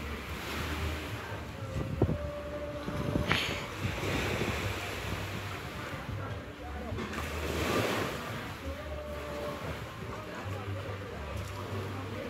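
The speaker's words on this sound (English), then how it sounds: "I listen to the sea outside of my brain" Sea waves washing ashore outdoors, a steady rushing surf with rolling swells and wind buffeting the microphone, moderately loud and continuous throughout, with some faint background noise.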